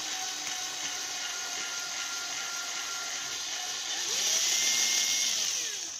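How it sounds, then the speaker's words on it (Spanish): A small drill with a 1 mm bit bores a hole, giving a steady high-pitched whine up close that swells louder near the end, with no talk. "una broca de 1 milímetro. Buscamos más o menos el centro y realizamos el agujero."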